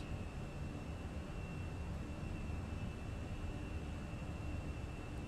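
Steady broadband roar of a Fenix A320 airliner climbing out in Microsoft Flight Simulator, a constant wash of engine and airflow noise with a thin high tone, alone and unbroken.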